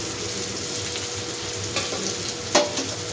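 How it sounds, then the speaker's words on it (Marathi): Green chilies frying in a pan give a steady crackling sizzle, with a sharper burst of spattering and a scrape of stirring near the end. "त्याला मिरच्या काय करायचं ना, फ्राय करून घ्यायचं."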